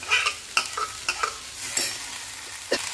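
Finely chopped tomato is stirred and sautéed in a hot pan for a jowar usal. A quiet sizzle runs underneath while a spoon scrapes and clatters against the pan in irregular close strokes.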